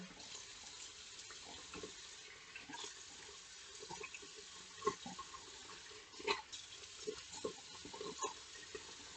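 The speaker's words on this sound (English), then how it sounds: "Let me wash off the microdermabrasion." Running water from a sink tap while someone washes off their face after microdermabrasion, a faint continuous trickle broken by soft splashes and wet slaps of hands, with no voices.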